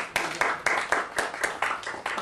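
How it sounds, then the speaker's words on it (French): An audience applauds a speaker at a peace-message event marking a Bahá'í anniversary, the claps sounding as loose, fairly even bursts about every quarter second, moderately loud and close. "Puis on l'applaudit encore une fois."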